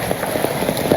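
Rain patters steadily and fairly loud outdoors, where chicken biryani is being cooked on a clay stove, a brief dense wash of drops with no voices.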